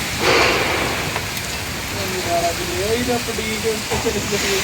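Heavy rain and wind in a Lahore storm, a loud continuous roar of rain close by, with someone talking over it for much of the time.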